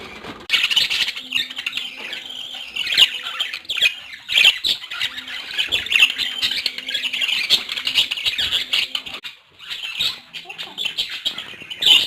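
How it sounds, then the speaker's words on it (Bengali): Several colourful pet birds kept in a cage squawk loudly and often, their harsh, overlapping calls coming close and nearly continuous, with quieter chirps between the bursts. "পাখিগুলা সারাটা দিন এভাবে কেচার কেচার করে আওয়াজ করতে থাকে।"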